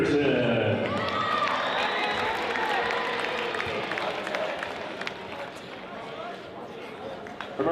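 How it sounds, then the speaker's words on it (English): A gym crowd at a high school basketball game claps and cheers loudly, the noise gradually fading over several seconds as an announcer speaks over it. "Let's give it up for Anna Fox for the dance company."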